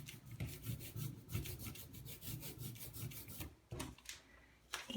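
Sticky printing ink worked on an inking station for nature printing, giving repeated tacky, rasping strokes in a steady rhythm, close and fairly loud, then breaking off into a few separate smacks near the end.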